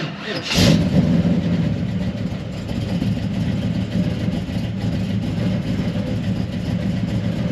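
A car engine cranks and fires up with a sharp burst, then settles into a loud, steady rumble close by, with revving throughout.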